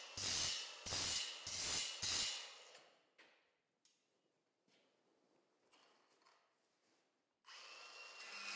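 Power drill boring out screws on a metal bracket fixed to an outside wall at an off-grid homestead build, four loud close bursts of about half a second each, then quieter handling and shuffling before the drill whines again at the end.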